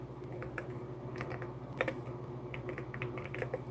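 Names being typed live on a keyboard, a steady patter of light key clicks over a low background hum, with no voices.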